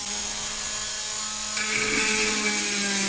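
A drill bores into material in a home workshop, a steady loud whine that rises in pitch and grows harsher about halfway through as it bites deeper, with no talking.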